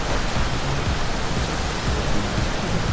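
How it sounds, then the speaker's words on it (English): Loud, steady rush of water flooding through the inside of a whale's mouth, a dense broadband roar with low churning swirls, continuous and close for the whole stretch with no voices. "Water rushed past him, and he clung to his raft tightly."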